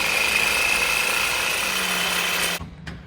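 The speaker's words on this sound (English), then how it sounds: "he's got the Sawzall" A Sawzall reciprocating saw buzzes steadily as it cuts through a metal exhaust downpipe, a loud close grinding drone that stops abruptly near the end, followed by a brief clank.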